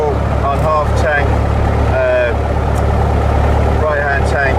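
A Piper PA28 light aircraft engine runs at a steady low idle during pre-flight checks, a constant loud rumble with a voice speaking over it.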